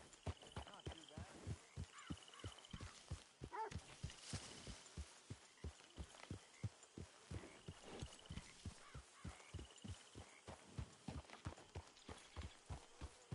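Horse hooves in a PS4 video game clop in a steady, rapid rhythm of sharp thuds, fairly close, with occasional faint calls over the game ambience.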